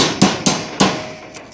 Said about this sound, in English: Who needs a hammer when you have a Leatherman?